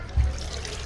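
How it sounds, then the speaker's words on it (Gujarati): Clean water poured out during household cleaning, with a short low gush of splashing liquid early on that fades into a steady background. "ચોખ્ખા પાણી નાખ્યું"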